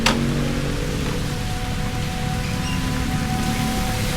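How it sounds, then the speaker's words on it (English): Steady rain falls outdoors, a continuous broadband patter with a faint low hum underneath, loud and even throughout with no talking. "it's raining now"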